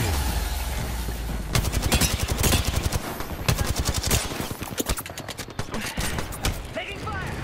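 Gunfire in the video game Apex Legends, with rapid bursts of automatic fire and sharp shots in quick succession, loud and close amid game sounds.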